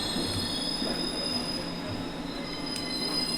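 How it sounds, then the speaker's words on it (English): London Underground S8 stock train in the Train Simulator 2020 game, a steady loud rumble of wheels on track with sustained high metallic squealing throughout, unbroken and without speech. "I kind of hear an S8 stock, but it seems to be invisible, which is really weird."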